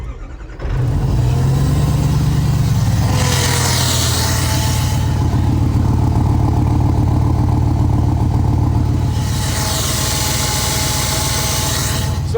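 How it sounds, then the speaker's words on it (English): A powerful car engine cranks and catches, then idles loudly with a high supercharger whine, blipping the throttle in two sharp revs. "behind me I hear engine, and in front of me I hear supercharger whine"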